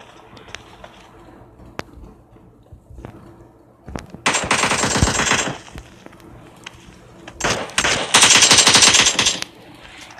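AK rifle fire in the PUBG Mobile battle royale game: two long, loud automatic bursts, each lasting over a second, with a few sparse single clicks and thumps before them and no talking.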